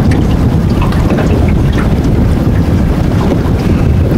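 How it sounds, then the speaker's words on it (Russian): A jet ski roars along on open water near a beach, its engine a steady, loud rumble mixed with heavy wind buffeting and splashing throughout. "В это время сотрудникам ГИМС удалось зажать гидроцикл."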